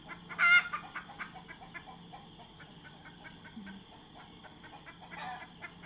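Chickens flying down from a high roost at a farmyard in Phra Saeng, Surat Thani, Thailand, giving a sharp loud burst of clucks and squawks early on, scattered softer clucks through the middle, and another flurry near the end.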